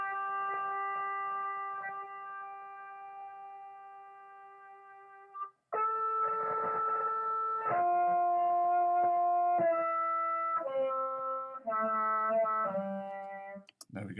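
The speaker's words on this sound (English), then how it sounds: "So I have chosen to add a little bit of distortion and a little bit of auto wah." An instrument in BandLab plays sustained, buzzy distorted notes through an auto-wah effect, first one long held tone and then a run of shorter stepping notes that shift in pitch, harsh and clearly alone.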